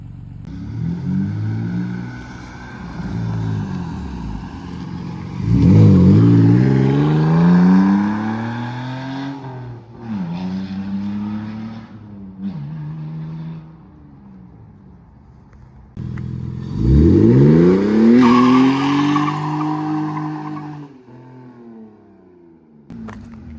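BMW Z3 with a muffler-delete exhaust revving repeatedly: several rising and falling engine roars, loud and close, with idle stretches between pulls and no talking.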